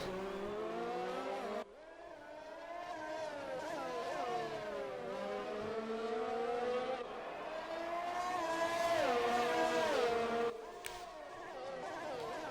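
Racing car engines in a racing video game on the Singapore street circuit, with an AI car following: high whining engine notes rising and falling through gear changes, steady and fairly close, with faint commentary underneath.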